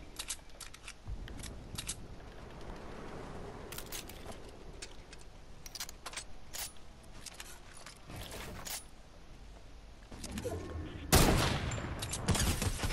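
Video-game gunfire striking a wall: a steady run of sharp rapid cracks and impacts over a noisy background, growing louder and denser in a heavy burst near the end.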